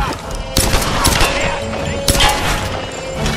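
Pistol gunfire in the video game Tomb Raider, a few sharp loud shots spaced unevenly over a rumbling, busy game soundscape.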